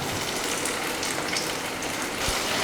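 Tomatoes sizzle as they hit onions already sautéed to light brown in a pan for vegetable biryani, a steady close frying hiss with broadband crackle throughout and a brief stir thump near the end.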